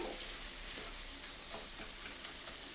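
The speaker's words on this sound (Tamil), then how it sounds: "நம்ம தக்காளியை வதக்கும் போது அடுப்பை கொஞ்சம் சிம்மில் வச்சு விட்டுட்டு" Tomatoes for mushroom pepper masala cook over low heat in a pan, making a soft, steady sizzle with faint stirring scrapes, close by and even in level.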